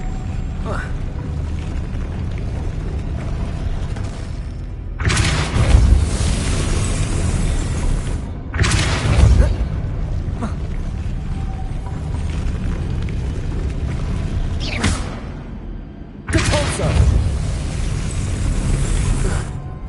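Depulso spell cast in Hogwarts Legacy, several loud whooshing bursts with low booming thumps recurring every few seconds over a continuous ambient rumble, with voices calling out between them.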